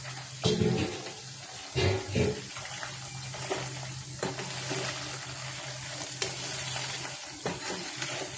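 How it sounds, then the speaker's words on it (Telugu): Chicken frying in a pan with ginger, a soft continuous sizzle broken by a few louder stirring scrapes, close and fairly quiet. "చికెన్ వేసాను, ఫ్రై అవుతుంది."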